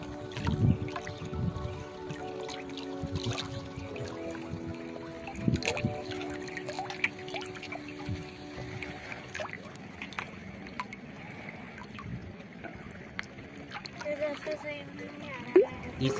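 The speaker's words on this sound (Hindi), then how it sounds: "नीलधारा माँ के इस तट पर बैठकर आप उनके जल के कलरव करते हुए शोर को भी सुन सकते हैं" The Nildhara river near Haridwar flows past the bank with a faint, steady murmur and soft trickles and drips, quiet under low background hum and distant voices.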